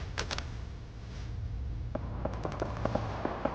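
Anti-material rifle fire in the strategy game Dawn of War 2: a quick pair of cracks, then a rapid string of sharp reports, all fairly faint over a steady game background hum.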